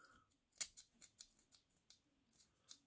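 Scissors snip and click repeatedly at close range, a series of crisp metallic cuts and blade clacks in an uneven rhythm.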